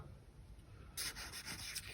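A colouring pencil rubs along a paper edge, burnishing a glued card steeple roof for a Christmas chapel model; after a quiet start, close, dry scratchy strokes repeat in quick rhythm.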